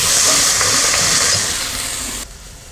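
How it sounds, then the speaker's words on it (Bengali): Amla greens hit hot mustard oil and are stirred, producing a loud, close sizzle that gradually tapers off before dropping away abruptly near the end. "এবার আমরা দিয়ে দেব আমলার শাকগুলো তেলের উপরে, শাক দিয়ে নাড়াচাড়া করে নেড়ে নেব।"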